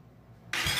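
A motorcycle starter kicks in abruptly after a near-silent pause, a loud, harsh burst of cranking and engine noise lasting under a second, on a motorcycle fitted with an Uma Racing quick throttle housing.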